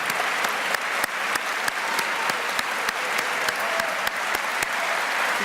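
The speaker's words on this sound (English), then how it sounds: "please give them a round of applause" A large audience at a city mayor's State of the City address in Atlanta claps continuously, a dense, steady wash of applause with a few sharper individual claps standing out.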